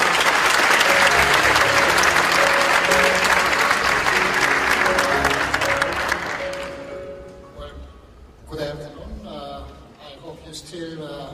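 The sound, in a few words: audience applause for Professor Cho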